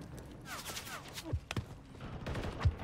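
Rapid gunfire in a ranked online shooter game, a few sharp reports and bursts with one louder shot near the end, mixed under chatter and background game noise.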